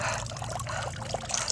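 Water trickles and splashes steadily in an outdoor fountain, a close, continuous bubbling with no speech.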